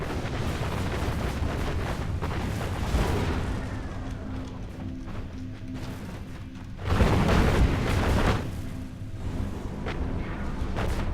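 Tank force firing in the Planetary Annihilation video game, a dense rumble of booming shots and explosions with a heavier burst of blasts partway through, steady and loud with no talk.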